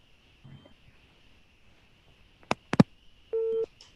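A telephone call cuts off: a few sharp clicks and beeps followed by a steady busy tone, heard close over a faint background hiss.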